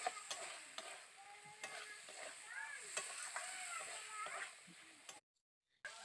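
Potatoes sauté with spices in a pan under a steady sizzle. Repeated scraping and stirring strokes of a spatula punctuate it, then a brief silence falls just before the end.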